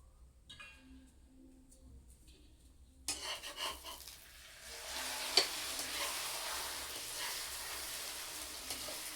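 Beaten eggs for a Thai omelette cook in a pan: faint clinks at first, then a sizzle bursts in and swells into a steady, fairly loud frying hiss with an occasional utensil tap.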